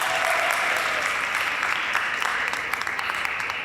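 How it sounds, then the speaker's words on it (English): Steady, fairly loud applause from a crowd at an Earth Day press conference, a continuous patter of many hands with a few sharper claps standing out, no talking over it. "Let's give him a big round of applause."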